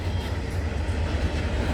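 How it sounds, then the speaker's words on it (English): A CN freight train rumbles steadily past at night on the York Subdivision, a dense continuous low roar with no pauses. "But I definitely know this train is going to Brampton or Mall Terminal for real."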